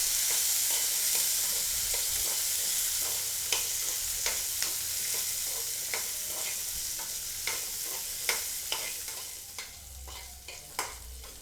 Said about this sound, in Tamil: சின்ன வெங்காயத்தை ஓரளவுக்கு நல்லா வதக்கி எடுக்கணும்.